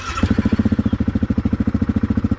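A Yamaha Kodiak ATV engine idles close by with a steady, rapid low-pitched chugging pulse after a brief initial noise, with no talking over it.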